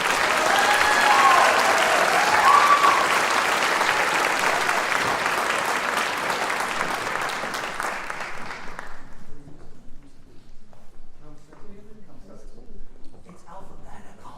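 Audience applause at a college fine arts and communication scholars award ceremony, a dense sustained clapping from a large crowd that runs for about nine seconds and then fades out into quiet room noise.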